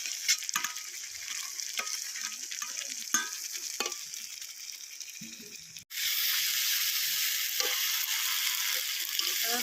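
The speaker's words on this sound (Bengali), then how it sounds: "এবার মশলাগুলো ভালো করে ভেজে নেব।" Chili paste and cumin paste frying in a pan: a steady close sizzle broken by stirring scrapes, which surges into a louder, denser hiss about halfway through and holds there to the end.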